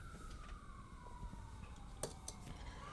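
An ambulance siren wails faintly in the distance, a slow falling tone drifting over steady low background rumble, with a few light clinks on top.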